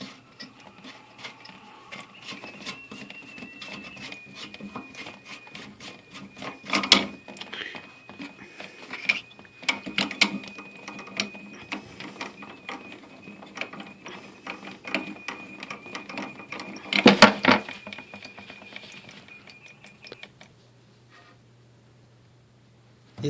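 Clicking and ratcheting of a wrench tightening the nut on a toilet fill valve during a leaking-toilet repair, with a steady run of small close-up clicks and two louder clattering bursts before it falls quiet.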